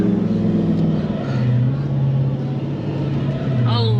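A 4WD climbs a steep sand dune track between Beachport and Robe with the steering at full lock, the engine droning loud and close and straining in a steady low labouring tone throughout.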